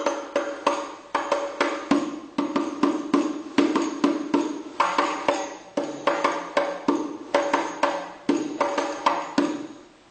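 Hadroh frame drums play a repeating rhythmic pattern joined with a rising naikkan stroke, a steady run of sharp hand strikes with deeper thuds, loud and close with no talk.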